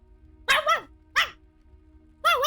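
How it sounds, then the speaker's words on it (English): Three sharp yaps from a little dog, close and fairly loud, with short gaps of quiet between the barks. "And then there's like the little dog,"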